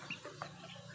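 Fighting roosters give a few faint, brief clucks against low background noise.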